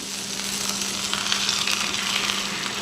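Cheese sizzles steadily on a hot pan while birria tacos are assembled, a dense continuous frying hiss that stays loud and close throughout with no talking.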